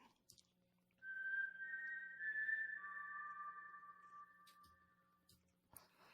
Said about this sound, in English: I downloaded the soundbite of the whistle from the movie.